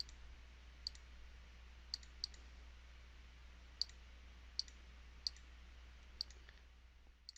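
Graphing calculator keys pressed one at a time in a quiet room, giving sparse, light plastic clicks in small irregular clusters over a low steady hum.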